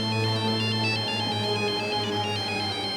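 A phone ringtone plays for an incoming call in a police drama scene, a loud, continuous electronic melody with repeating high beeping notes over a steady tone.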